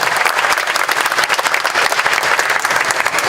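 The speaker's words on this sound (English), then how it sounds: "Can we all give the Hmong 18 Clan Council President another round of applause" A crowd at the Hmong Wausau Festival breaks into loud, sustained applause, dense overlapping clapping holding steady from start to finish.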